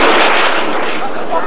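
A big model rocket motor roars at ignition on the launch pad, a loud, harsh, continuous rushing blast that stays strong throughout, close by outdoors.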